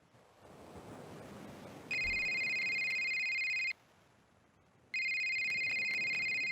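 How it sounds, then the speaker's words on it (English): A phone rings twice over a wind-buffeted outdoor background, each ring a sustained electronic trill lasting about two seconds, loud and close, with a pause between them. "My phone just went off too."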